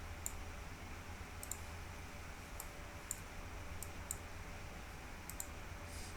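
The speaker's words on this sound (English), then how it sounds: "We're gonna click on this video," Faint, sharp computer mouse clicks sound about eight times at irregular intervals, some in quick pairs, over a quiet background hum.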